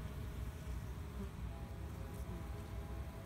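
A dense, steady low hum of many honey bees buzzing close by as they clean honeycomb after honey extraction, continuous throughout with no voices.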